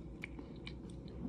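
A large chocolate-glazed roasted cashew being bitten and chewed, a few soft close crunches over quiet mouth sounds, with no talking.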